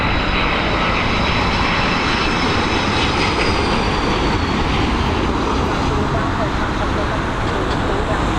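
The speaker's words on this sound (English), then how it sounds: "Just about catching touchdown there after that lorry. Nice landing there from the A330 crew." An Airbus A330 airliner lands at Dublin Airport with a loud, continuous engine roar, a dense unbroken rush that holds steady throughout alongside faint roadway traffic.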